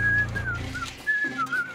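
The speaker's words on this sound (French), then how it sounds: "Zobo, chut! Les machines à nettoyer ne sifflotent pas!" A cartoon robot named Zobo, disguised as a cleaning machine, whistles a short wavering tune alone, the clear high pitch sliding up and down in a few brief phrases.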